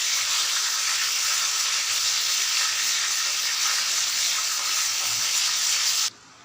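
Chicken leg pieces frying in hot oil, a loud, steady, close sizzling hiss that holds evenly and then cuts off abruptly near the end.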